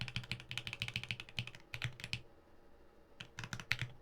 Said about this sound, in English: Doll keyboard by Funkit.